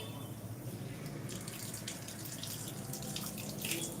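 Tap water runs steadily while a face is washed for wudu, a continuous close splashing flow with small irregular splashes and no voices.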